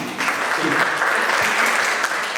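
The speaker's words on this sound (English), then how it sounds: "ladies and gentlemen, a big round of applause for Sophie" Audience at a talk on sustainable high performance gives a round of applause welcoming a speaker, a short, dense burst of clapping filling the room without voices.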